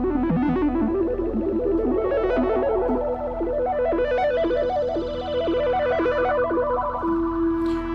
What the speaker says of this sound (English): So it sounds kind of like this, just if I play the synth.